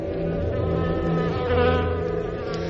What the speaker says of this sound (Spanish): nunca había visto tal cantidad de abejas en un solo lugar